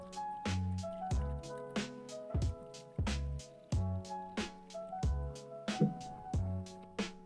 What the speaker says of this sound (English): Now we're going to drip our tea